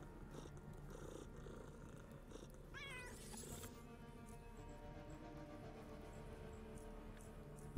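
One short cat meow from a video game rises out of a steady low game hum and fades quickly; no other calls follow and no one talks.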